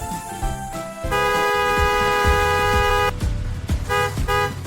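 A cartoon car's horn toots loudly in a bright, musical honk that holds steady for about two seconds, then sounds again in shorter beeps over playful background music.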